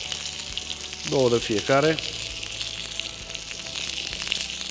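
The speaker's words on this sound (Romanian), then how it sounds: "Gătesc totul în tigaie" Pork and mushrooms fry in olive oil in a pan, a steady close sizzle running throughout while someone speaks briefly over it.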